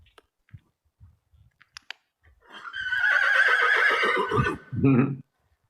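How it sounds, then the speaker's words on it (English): A horse gives a long, loud whinny that wavers and drops in pitch, ending with a short snort, preceded by soft clicks and shuffling. "Very vocal horse."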